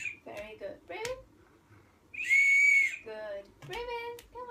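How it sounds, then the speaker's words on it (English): A whistle blown by a child during a breathing exercise, with a single shrill sustained toot of about a second, loud and close, between bits of high-pitched voices. "Best whistle."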